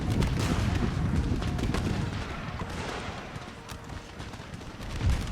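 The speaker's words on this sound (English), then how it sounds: "Fire the canister!" Cannon firing canister shot in the video game Empire Total War, amid a continuous din of battle gunfire and booms that stays loud throughout, with no voices.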